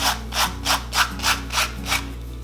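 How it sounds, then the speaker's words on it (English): Dried salt rubbed off a watercolor bookmark by hand at a table, six or so close, evenly spaced scratchy strokes repeating in a steady back-and-forth rhythm. "All you're going to do is you're going to carefully rub all of the salt off."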